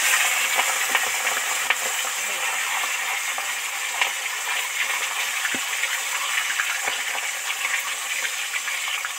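A katla fish head frying in hot oil with turmeric in a village-style kitchen gives a steady, loud sizzle with crackling pops and a few soft knocks, close and continuous.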